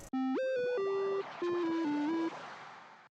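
A bright Serum synthesizer chorus preset with the chorus off and added attack plays a short melodic phrase of sustained gliding notes with a soft swell, then a quiet reverberant tail.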